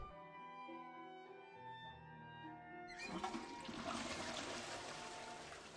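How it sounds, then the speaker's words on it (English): A toilet flushes in the Digimon Survive video game, with a steady rush of water that swells into a louder gushing surge partway through, heard alone with no talking. "They really added a toilet flushing sound in this bitch."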